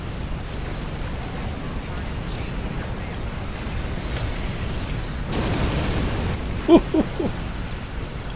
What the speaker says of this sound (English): So that explosion there was the point defense bombardment warhead